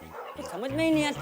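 Dogs bark and yelp at night in a residential street, short bursts close by while a person speaks over them.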